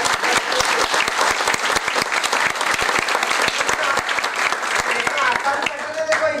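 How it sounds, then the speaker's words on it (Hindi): An audience at a distributor business workshop breaks into applause: loud, dense, steady clapping for several seconds, close and full, with a voice faintly mixed in underneath. "अरे ताली बजाओ अपने आप को"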